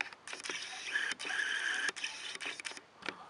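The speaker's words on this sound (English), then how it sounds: "I'm really sorry about the squeaky noises" Squeaky, rubbing and clicking noises from handling a Victorinox Huntsman Swiss Army knife, probably from opening and closing its tools, with several short bursts and brief pauses between them, close up and at moderate level.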